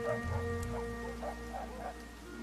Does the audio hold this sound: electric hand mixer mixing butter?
no